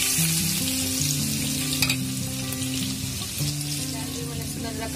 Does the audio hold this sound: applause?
no